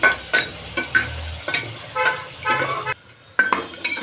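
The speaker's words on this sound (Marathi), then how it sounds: "कांदा घालून घेतलाय. तोही आपल्याला चांगला लाल परतून घ्यायचा आहे" Onion frying in a pan for a Marathi watana bhat (peas rice) dish, with soft sizzling and stirring scrapes that recur in short bursts and a brief quiet gap near the end.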